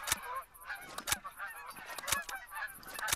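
Canada-style geese honking repeatedly in a flock coming in to land during a goose hunt in theHunter: Call of the Wild, loud overlapping calls with sharp honks about once a second, no talk.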